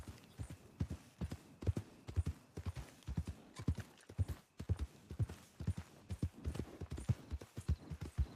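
Horse hooves clip-clop at a steady walking rhythm in a Wild West video game, loud and close with an even beat from start to finish and no talk over it.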